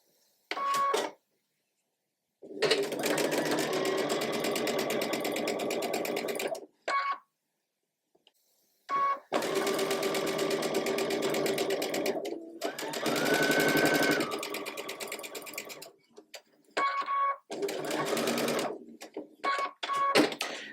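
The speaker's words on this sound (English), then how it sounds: "And then I'm just going to sew that seam." A sewing machine stitches a quilt block seam in several loud buzzing runs of steady rapid needle motion, separated by short pauses and brief stops, close up with no talking.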